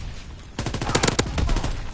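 A quick burst of rapid automatic gunfire rattles in a video game firefight, several close, loud shots in a tight rhythm that follow a quieter lead-in.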